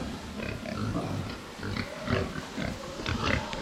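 Pigs in a farm shed grunting and snuffling in a steady, moderately close jumble, several animals at once, with no voices over them.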